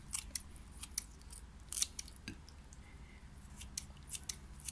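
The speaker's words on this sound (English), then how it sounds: "I have to cut this. This is fish. It's strips like this." Kitchen scissors snip fish into strips in a run of crisp, close cuts at an uneven pace, with short pauses between them and no talking.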